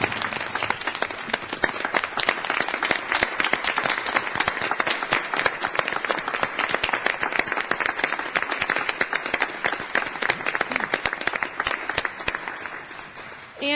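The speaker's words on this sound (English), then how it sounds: "Let's give her a round of applause." Sustained audience applause at a school district board meeting, dense steady clapping from a room of people lasting over ten seconds without a break.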